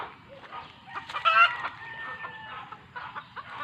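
A chicken clucks in short bursts, with one louder, drawn-out call in the middle, close by over a low rumbling background.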